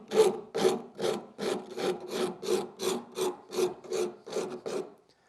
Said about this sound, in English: again using the rasp.